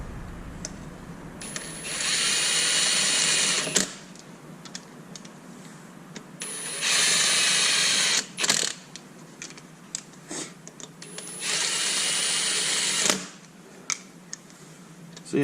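A power tool snugs down the wheel lug nuts on an LS-swapped Subaru BRZ, three sustained whirring bursts of a few seconds each, close up, with small clicks and clanks in between.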